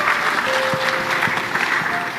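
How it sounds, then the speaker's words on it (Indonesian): An audience breaks into applause for the fathers at a gathering, a dense, steady clapping from many hands that lasts the full two seconds at close range. "Tepuk tangan buat bapak-bapak utamanya."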